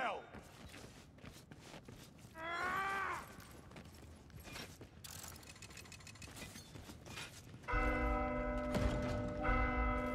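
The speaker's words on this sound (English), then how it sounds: "Strike the bell." A bell struck in Warhammer Vermintide rings out loudly in the last seconds with long metallic overtones, following game action, a voice and mechanical clatter.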